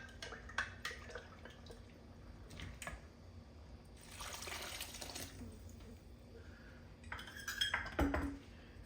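Soup with mushrooms and broth is stirred in a pot, bringing clinks and scrapes of a utensil against metal and a soft swirl of liquid in bursts, fairly quiet, with no talking.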